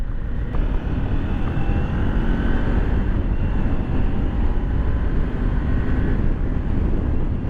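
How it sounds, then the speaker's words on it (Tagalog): A Kawasaki Ninja 400 motorcycle ridden fast on a road, heard as a loud, continuous roar of engine drone and heavy wind buffeting, with no break and no voices. "tulin tong motor na to"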